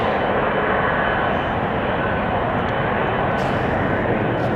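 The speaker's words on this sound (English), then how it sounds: "I don't know where it's going to or how old this plane is, but it sure is a magnificent machine. Great sound." A large airliner's engines roar loudly and steadily at Amsterdam Schiphol Airport, a broad, continuous rumble close by with no voices over it.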